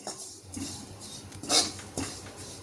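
Grated coconut dry-roasting in a pan for homemade Goda masala, with soft scraping and scattered clinks of a spatula against the pan, one sharper clatter near the middle, close and fairly quiet.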